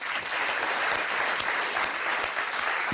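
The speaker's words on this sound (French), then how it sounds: "Donc je vous demande d'applaudir" Theatre audience applauding at the end of a show, a dense, steady wash of clapping hands filling the hall from start to finish, with no voices over it.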